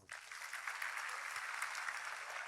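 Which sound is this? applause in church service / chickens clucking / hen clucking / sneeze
applause in church service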